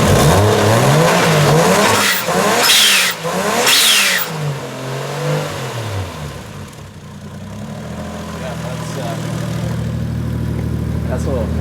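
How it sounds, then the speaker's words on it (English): A 1JZ-swapped Nissan 240sx S13 revs hard several times, the engine rising and falling loudly up close, each rev cut off by a sharp hissing release from the blow off valve before it settles into a rough idle. "Listen to this damn crazy ass blow off valve."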